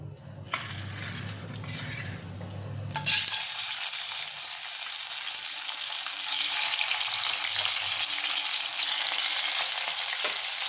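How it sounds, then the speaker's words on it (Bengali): Tilapia fish pieces hit hot oil in a pan with a sudden loud burst of frying, settling into a steady, dense sizzle that carries on alone. "এবার ওই তেলে আমি আরও তেল দিয়ে দিয়েছি। এবার আমি মাছগুলো ভেজে নেব"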